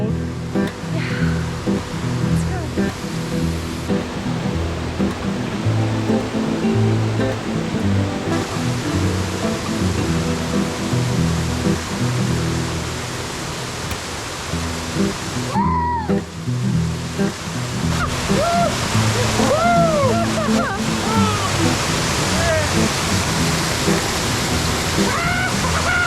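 Steady roar of rushing water close by, broadband and continuous throughout, with a few faint higher calls briefly rising over it.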